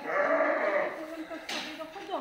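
Dorper sheep bleating at a sheep farm in Plchovice, Czech Republic: one long, wavering bleat, then shorter, fainter calls, with other farm sounds in the background.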